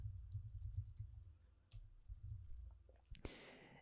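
Faint, light clicks and taps come from a computer keyboard and mouse as text is typed and selected during a SharePoint session, ending in a sharper click.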